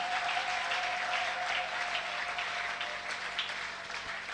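Church congregation at an evening service clapping loudly and steadily as a dense, continuous wash of applause, with no voices standing out.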